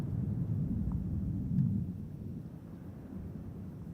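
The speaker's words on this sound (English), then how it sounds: "a sonic boom felt throughout the Kennedy Space Center and Cape Canaveral Air Force Station area" Sonic boom from a Falcon 9 first stage returning to Landing Zone 1 at Cape Canaveral: a deep, muffled low rumble that swells and then fades, heard from a distance, with no voices present.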